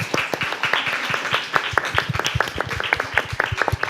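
An audience claps at the close of a talk on gender equality, a lively burst of many hands making crisp, overlapping claps that run steadily throughout.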